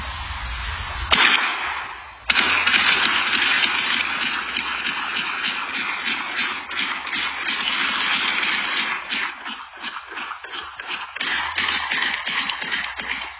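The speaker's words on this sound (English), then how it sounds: "That's like 30 shots right there" A long rapid burst of about thirty sharp cracking gunshots in a residential neighborhood, in quick succession, slightly distant and echoing, with no voices.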